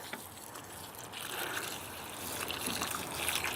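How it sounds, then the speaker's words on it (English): Water poured onto newly planted garden plants in damp soil, a soft, close trickle and splash that grows slightly stronger over a few seconds, with no talking. "Even though the soil's damp, always water plants when you put them in."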